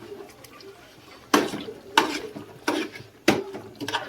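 Spoon scraping and knocking in a pan while stirring chicken curry, four sharp strokes spaced about half a second to a second apart over faint background hiss.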